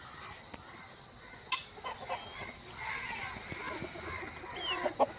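Chickens cluck intermittently at moderate distance, with scattered short calls amid steady outdoor background noise.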